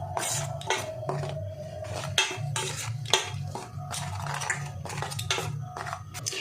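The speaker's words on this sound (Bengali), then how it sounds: "এবার শুকনো উপকরণগুলো একটু মিশিয়ে নেব।" Dry batter ingredients with pepper and chili powder are stirred together in a bowl for crispy potato ring snacks, giving close, repeated clinks and scrapes of a utensil against the bowl, steady through the clip without talk.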